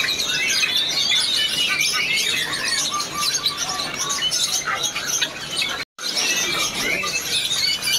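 A Javan hanging parrot at a bird market gives sharp chirps and squawks, close and fairly loud, against a busy chatter of other caged birds.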